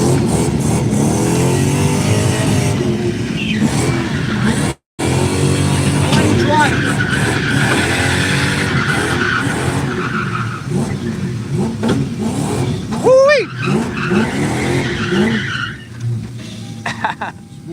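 A 4.2-litre V8 Toyota Soarer drifts at Norfolk Arena, its engine revving hard in waves with tires skidding and squealing, loud and close throughout, with a brief dropout early on and voices talking over parts of it.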